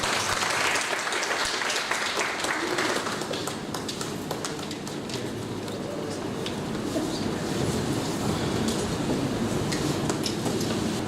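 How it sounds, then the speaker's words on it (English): Steady audience applause after the introduction of a lecture on Kazi Nazrul Islam, world literature and internationalism, a dense wash of many hands clapping at an even level for about eleven seconds, with no talking over it. "let us give a big round of applause for"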